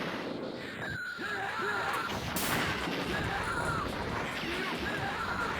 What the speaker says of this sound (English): Oh, we also have missiles.